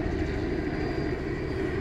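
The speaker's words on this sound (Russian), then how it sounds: "Опять же, сейчас вертолет пролетит." A helicopter passes overhead in a forest park, heard as a steady broad engine and rotor drone that fills the short stretch at a constant, moderately loud level, with no speech.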